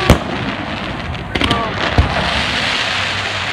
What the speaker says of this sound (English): Here we go, the fireworks!